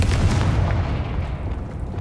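A Confringo fire spell blast in Hogwarts Legacy, a heavy rumbling boom that swells at once and rolls on with a thick low-end wash for about two seconds.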